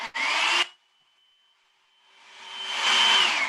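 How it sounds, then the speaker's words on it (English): A loud, steady whooshing blower with a high whine cuts off abruptly, leaving a faint tone, then ramps back up to full roar. "I may turn my hair dryer on so it's a little loud,"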